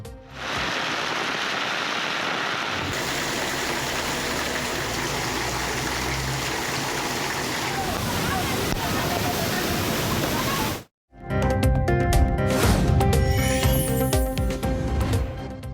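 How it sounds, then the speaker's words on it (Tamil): Heavy rainwater floods into a police station in Thoothukudi, a steady loud rushing of flowing water and rain that fills the whole clip, breaking off briefly near the end before a harsher, clattering burst of water noise resumes. "தூத்துக்குடியில் பெய்த கனமழையால் காவல் நிலையத்திற்குள் புகுந்த மழைநீர்."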